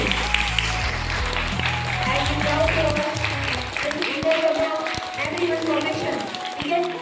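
A school audience at a prize distribution ceremony claps enthusiastically, a dense burst of handclaps that continues and thins out, with a voice over a loudspeaker heard at the start.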